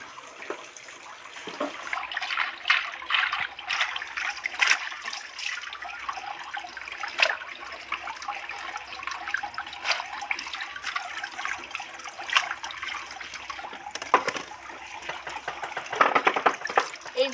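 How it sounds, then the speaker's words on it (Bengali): Malabar spinach (pui shak) leaves being washed by hand in water, with soft continuous splashing and trickling, faint and close, without talk. "সবার আগে ভালো করে পুঁইশাকটা ধুয়ে নেব"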